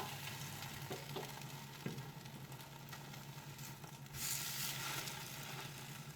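Egg-soaked bread for French toast frying on a dosa pan, a steady close sizzle that brightens and grows louder after a couple of light clinks, heard alone without talk.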